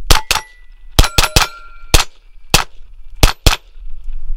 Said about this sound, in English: Now I'm shooting some CCI green tag that CCI was nice enough to send me out of this pistol